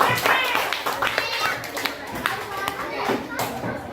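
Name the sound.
children clapping hands in a classroom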